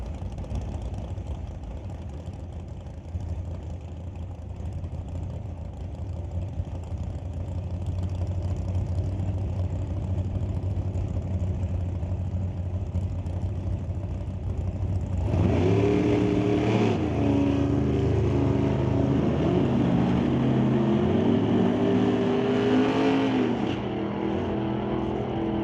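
A 1966 Ford Mustang and a Super Gas Corvette sit idling at an NHRA Summit ET drag race, with a steady low engine rumble that rises sharply midway into loud, roaring revs and full-throttle acceleration before easing off.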